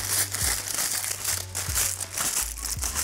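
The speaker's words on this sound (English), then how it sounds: "I could use the foil, crush it" Aluminium foil crushed and crumpled by hand while making a 3D sculptural drawing, a steady close crinkling and crackling with a few soft low thumps as it is squeezed.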